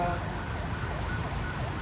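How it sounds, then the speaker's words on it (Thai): An ambulance siren wails steadily on a road in Thailand, its rising and falling sweeps heard loud and continuous through the whole stretch. "ขอรถพยาบาลไปก่อนครับ"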